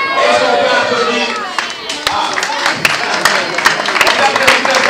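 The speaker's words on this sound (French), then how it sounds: "est-ce qu'on peut applaudir?" A crowd bursts into applause, a dense clatter of many hands clapping that grows stronger toward the end, with cheering voices mixed in.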